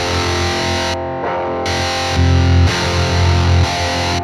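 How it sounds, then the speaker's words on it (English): Electric guitar played through stacked high-gain distortion pedals, a dense, saturated and loud sustained tone that cuts out briefly and returns in heavy held chords, with no voices. "No one should be afraid of stacking distortion high gain pedals."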